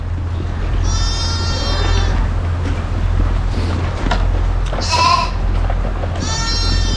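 Lambs and sheep bleat repeatedly inside a barn, several wavering calls rising over a steady low mechanical hum and dense background rustle.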